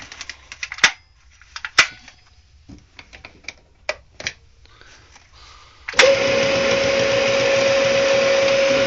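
A homemade milling head with a pulley drive is heard: several sharp clicks and knocks at first, then at about six seconds the motor switches on into a loud, steady whir with a constant tone that carries on to the end.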